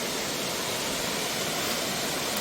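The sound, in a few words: Ludu waterfall flowing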